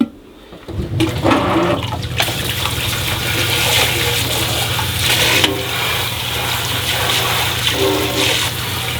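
Tap water runs hard and continuously over a pot lid, a loud close gushing wash that starts abruptly after a brief quiet moment and keeps going with slight surges.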